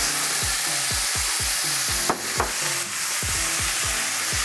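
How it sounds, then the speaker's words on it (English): Bulgur being stirred into a sizzling vegan mix in a pan, with a steady run of soft scraping strokes over a constant frying hiss, close and fairly loud, with no talk. "Give that a little stir as well."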